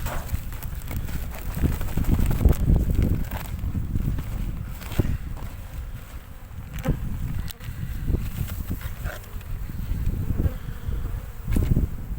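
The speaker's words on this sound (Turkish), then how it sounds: "Evet yine dolu dolu bir kovan arkadaşlar." Honeybees swarm thickly around an open, crowded hive, making a dense close buzz that swells and fades. Scattered taps and knocks from hive handling cut through the buzzing, and there is no speech.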